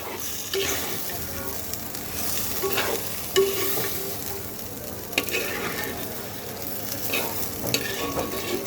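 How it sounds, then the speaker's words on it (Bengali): Goat meat sautéing with spices in a clay pot, a steady close sizzle broken by repeated scraping stirs of a spoon against the pot, with no voices. "এবার খাসির মাংসটাকে সুন্দর করে কষাতে হবে"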